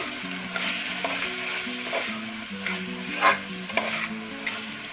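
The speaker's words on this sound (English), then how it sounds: "And this as well has to be sauteed together." Soya pulao ingredients sizzle steadily in a one-pot meal as they are sauteed, with occasional stirring scrapes and clinks rising over the continuous frying hiss; no one speaks.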